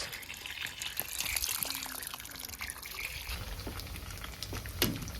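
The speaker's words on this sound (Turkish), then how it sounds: "Tankerden suyu açtık." Water runs steadily from the tap of a water tanker at a vineyard house, a continuous splashing flow with a brief louder gush near the end.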